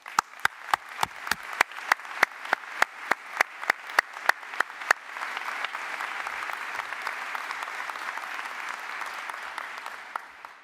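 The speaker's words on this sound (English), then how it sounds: "Let's give a round of applause for that." Commencement ceremony audience at a college applauding: a run of sharp, evenly spaced claps at first, then a dense, sustained wash of crowd applause lasting several seconds.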